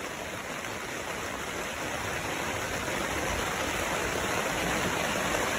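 A river flows in a steady, soft, even rush of water, constant and unbroken, with no voices over it.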